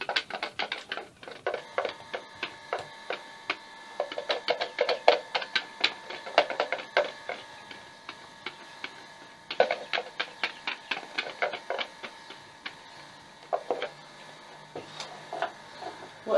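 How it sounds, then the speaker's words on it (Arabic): A spoon stirs semolina batter with yogurt for basbousa, producing rapid, close, irregular clicks and scrapes against the bowl in bursts with brief pauses, and no talking. "واقلبها بالمعلقة كده يا جماعة ايه بشوش خالص"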